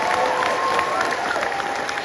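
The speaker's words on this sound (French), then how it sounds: "Cher Anta Diop, que je vous demande d'applaudir fortement" An audience applauds strongly at an African history lecture, a steady broadband wash of dense clapping and crowd noise throughout, with faint voices mixed in.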